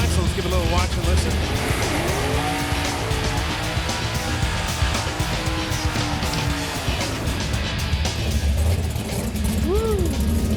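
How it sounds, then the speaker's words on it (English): A 1984 Chevy Camaro revs hard and its tires squeal in a sustained burnout, loud and close, with engine pitch rising and falling over crowd noise. "the burnouts never lie, so let's give a little watch and listen"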